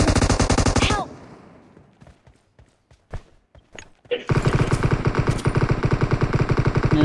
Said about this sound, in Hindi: दिख रहा है मेरे पे फायर होते